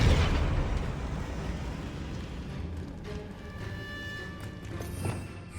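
A Confringo fire blast spell explodes in Hogwarts Legacy, a loud burst that leaves a rumbling wash with a smaller pop near the end.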